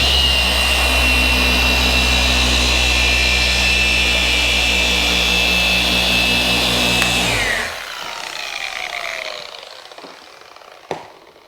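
A car paint polishing machine runs steadily on speed 3 against the paintwork, a loud, continuous whir with a high whine, then it switches off and winds down, with a sharp knock near the end.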